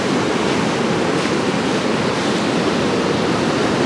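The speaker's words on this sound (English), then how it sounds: "Don't go where them waves is knee high like that." Ocean waves break at a fishing pier, a continuous loud roar of surf and wind with no distinct pauses and no voices.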